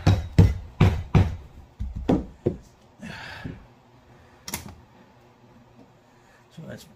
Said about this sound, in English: basically take this rubber hammer and just beat it in there.